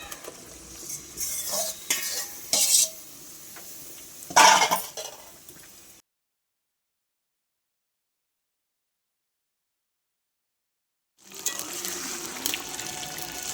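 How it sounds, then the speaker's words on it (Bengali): Mutton being stirred and sautéed with spices in a pan: scraping spoon strokes and clinks of utensil against the pan with a soft sizzle, several loud clattering stirs, then a long silent gap before the stirring and sizzling resume. "মাংসটা কিন্তু কষানো হচ্ছে বেশ খানিকটাই হয়ে গেছে"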